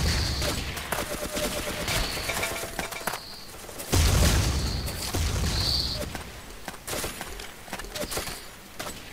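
Rapid bursts of gunfire from the blocky multiplayer shooter Ace of Spades crackle throughout, mixed with sharp impacts and breaking sounds, mostly alone with little talk.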